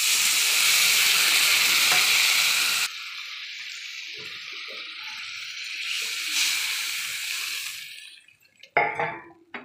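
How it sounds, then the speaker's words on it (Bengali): Water poured slowly into fried spice paste for katla fish curry, a loud sizzle that drops abruptly into quieter bubbling and hissing, followed by a few stirring clinks. "এবার আমি জল দিয়ে দেবো আস্তে আস্তে।"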